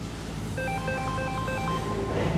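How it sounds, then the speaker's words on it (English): A telephone rings in a workshop with a warbling electronic tone, a short series of bursts heard over a steady background hum. "Phone ringing."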